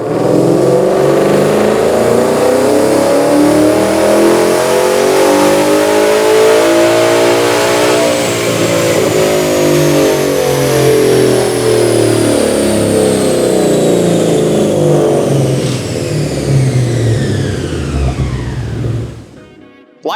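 A 2011-2014 Mustang GT engine with an off-road X-pipe revs hard on a dyno in 4th gear, steadily climbing in pitch through a long pull, loud and close, then dropping off abruptly at the end.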